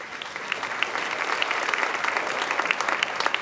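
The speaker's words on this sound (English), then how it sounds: "Please give him a round of applause." An awards show audience gives a round of applause for a marketing teacher, with dense, sustained clapping from a large crowd in a hall, steady throughout with a few sharper claps standing out.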